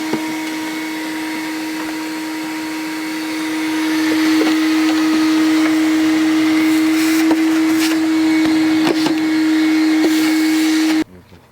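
A loud vacuum cleaner runs continuously while cleaning a car engine bay, a steady high whine with scattered clunks and knocks as the nozzle hits parts, cutting off abruptly at the end.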